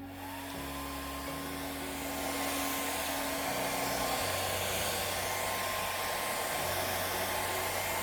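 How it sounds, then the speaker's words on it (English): A hair dryer runs on its low setting, a steady whooshing blow with a constant motor whine, close and loud, continuing unbroken for several seconds with no talking. "So here where I'm going to huff and puff with the hairdryer at low"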